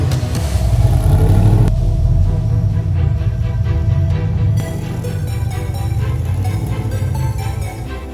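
Gasser drag cars roll through a parking lot at a drag-and-drive event, a loud, steady low engine rumble with rough revving throughout, one car passing close at first and others continuing behind.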